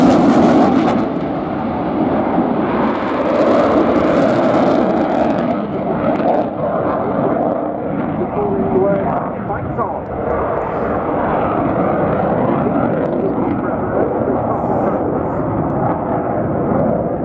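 Austrian Eurofighter Typhoon jets fly a display at an airshow with a loud, continuous roar of jet thrust that stays heavy and rumbling throughout, while a commentator's voice is faintly present beneath it.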